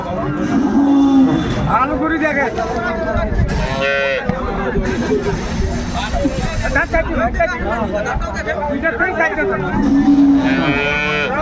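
Dairy cows and calves moo repeatedly, long low calls rising over a busy crowd of chattering voices at Ambari livestock market, Dinajpur, Bangladesh.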